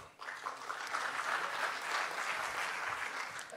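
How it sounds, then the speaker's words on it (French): Audience applause for a musical group at a West Web business conference, a dense steady clapping that swells quickly and holds loud and even throughout, with no voices over it. "Merci le groupe, on peut les applaudir."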